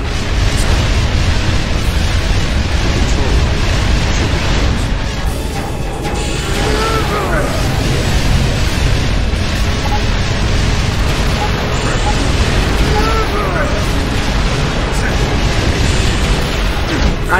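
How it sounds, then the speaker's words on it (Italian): Explosions from Asura's attacks in the video game Asura's Wrath, a dense, loud barrage of booms and crashing bursts continuing throughout, with voices under the din. "Io non sto sentendo niente per via delle esplosioni dei colpi di Asura"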